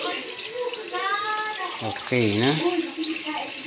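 Tap water runs over glutinous rice being washed for latik, a Pangasinan homemade kakanin, with a steady splash under a woman's speech.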